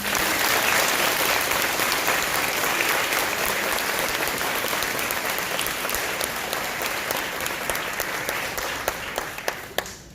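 A school audience at a National Junior Honor Society ceremony applauds its members in a full, steady round that slowly thins, ending in a few scattered, louder single claps.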